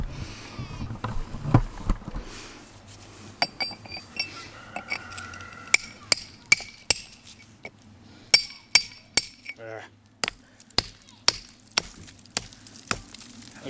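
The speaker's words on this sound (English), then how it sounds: "So I'm gonna break off a piece right here. I got a chisel." A hammer striking a chisel against a piece of flint or chert, heard as a run of sharp, ringing metallic clinks that come faster and evenly spaced toward the end, with a voice speaking briefly at the start.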